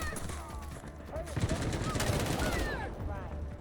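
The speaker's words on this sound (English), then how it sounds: "Taking heavy fire!" Heavy automatic gunfire in the shooter game Delta Force, a dense, continuous barrage of rapid shots with an SG552 rifle build, loud and sustained throughout with a voice calling out over it.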